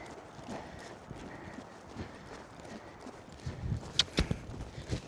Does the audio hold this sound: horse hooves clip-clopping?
yes